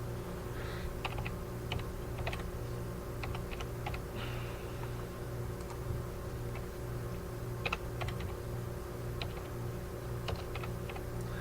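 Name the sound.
typing coordinates on a computer keyboard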